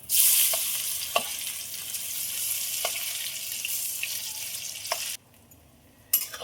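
Pea and chana dal fritters sizzle and crackle in hot oil, a dense continuous hiss with a few sharp pops, then a brief quiet gap before the frying returns.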